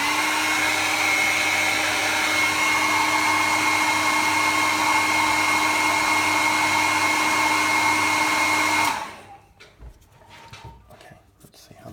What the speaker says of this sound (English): Hair dry it